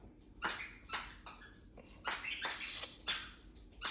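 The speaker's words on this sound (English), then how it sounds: "my dog making squeaky noises in the background" A dog lets out a series of high, squeaky whimpers in short repeated bursts, fairly faint and in the background.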